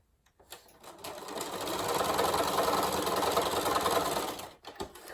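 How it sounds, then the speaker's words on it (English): A sewing machine stitches nine-patch quilt blocks together, its motor whirring up to a steady, close, fast chatter for about three seconds before slowing and stopping, with a few clicks around it. "I'm just going to sew that one right here on the end."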